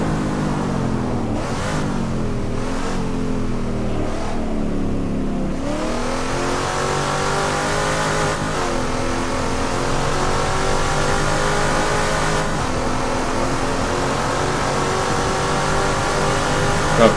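A 1971 IMSA car races at Daytona in Assetto Corsa, its engine revving loud and close through rising and falling gear changes, a continuous roar with no talking.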